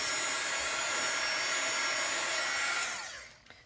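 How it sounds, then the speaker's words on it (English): A craft heat tool blows hot air over ink on a card, a loud steady close whooshing hum that winds down and stops near the end. "I'm going to make sure my ink is dry with my heat tool"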